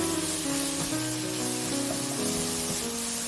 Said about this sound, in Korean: 올리브 오일, 다진 마늘을 넣고 볶고 꽈리고추를 넣고 1분 볶아줍니다